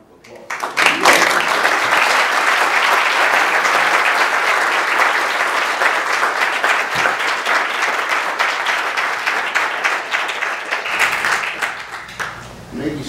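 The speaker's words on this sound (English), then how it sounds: "You get a round of applause." A long burst of applause from an audience after a scientific talk, steady and loud for over ten seconds before thinning out near the end.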